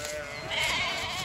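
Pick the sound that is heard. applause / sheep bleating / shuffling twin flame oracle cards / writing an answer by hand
sheep bleating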